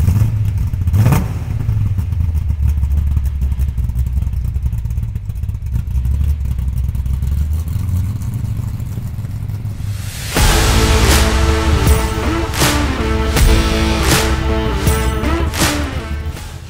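An XE Falcon tribute car in Dick Johnson Greens'tuf livery, fitted with a top loader gearbox, rumbles at a low idle before its engine revs up loudly and repeatedly, throaty and close, with no talking.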